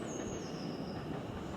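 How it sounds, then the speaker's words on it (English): A train on the South Western Railway near Brookwood moving off into the distance, a faint steady rumble with a thin high squeal above it. "And there goes my train disappearing off into the distance."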